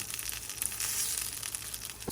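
Tomato sizzling in a frying pan for mole de pollo, a steady crackling fry alone without talk, moderately loud and close.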